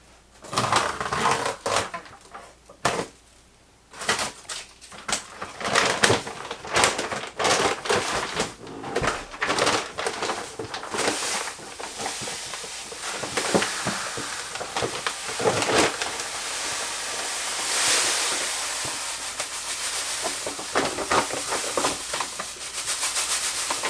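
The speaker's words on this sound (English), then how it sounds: "I'm going to go ahead and pour that in here." Granulated sugar is poured from a bag into a bucket in a pantry, a long grainy hiss and rustle that swells and fades in uneven streams, with crinkling of the bag between pours.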